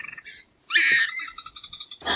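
A pukeko gives a recorded night call, a sharp, shrill screech followed by a series of short repeated squawks, close and clear against near silence, with another harsh burst at the end.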